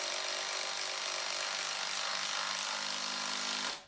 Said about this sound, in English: we'll start off with a regular impact driver, and in this case, the brushed Ridgid Gen 5X impact driver